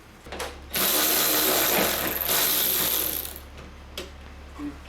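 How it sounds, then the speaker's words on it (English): A hand ratchet clicks rapidly and steadily while backing a bolt out of a VW Jetta trunk latch, a close, loud burst of continuous ratcheting that trails off into a few scattered clicks. "now I'm gonna remove the second bolt so that we can remove the latch."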